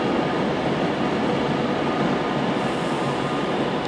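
A train at London Euston station on the West Coast Main Line gives a loud, steady rumble of moving rail cars and wheels that fills the whole stretch without pause.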